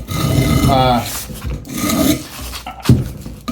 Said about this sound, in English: I thought I would just scrape off some of the big chunks, hit them on a wire wheel